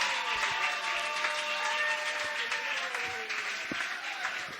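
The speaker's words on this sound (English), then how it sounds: "A round of applause one more time for Ofosua." Sustained applause and crowd noise fill a room at a creative arts showcase evening, with a voice and faint tonal sounds running beneath the clapping.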